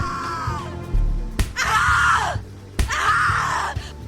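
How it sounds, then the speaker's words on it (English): Two long, anguished screams come from a character in the horror video game The Cat Lady. Each starts with a sharp hit and sounds close and strained, with a low, dark ambient drone underneath. "Scream your lungs out!"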